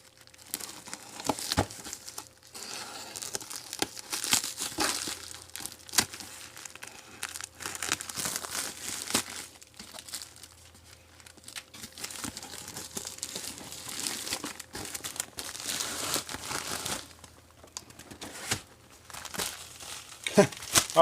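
A cardboard box holding a 36mm Keihin clone carburetor is cut open, with continuous close crinkling, scraping and tearing of packaging in irregular bursts.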